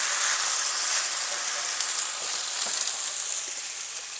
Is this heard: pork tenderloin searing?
yes